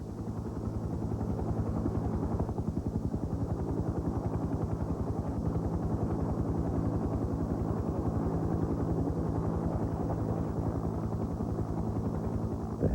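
A helicopter hovers low over icy water during a rescue. Its rotor throbs loud and steady throughout, with a constant engine roar and no voices.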